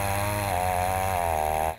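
A petrol chainsaw runs at a steady high pitch while residents clear broken trees and fallen branches from a riverside street, loud and close, then drops off sharply at the end.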